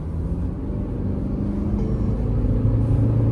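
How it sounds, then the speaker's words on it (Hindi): A 2024 Tata Curvv diesel automatic SUV engine in sport mode gives a deep, steady rumble that fills the clip, growing slightly louder toward the end, with a low throaty drone and no voices. "गाड़ी के इंजन की साउंड ही बदल जाती है बिल्कुल"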